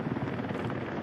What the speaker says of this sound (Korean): 화재 진압용 헬기를 투입했습니다